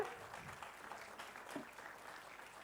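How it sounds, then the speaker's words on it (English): At an MBA convocation ceremony, an audience applauds a graduate with steady, soft clapping heard from a distance, a dense even patter that continues throughout. "Special clapping, please, for her."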